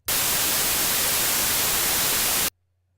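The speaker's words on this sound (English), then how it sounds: "So, I'll just pick out noise and let's hear what we have already." Synthesizer white noise in Ableton Live plays as a steady, loud, even hiss for about two and a half seconds, then cuts off abruptly to near silence.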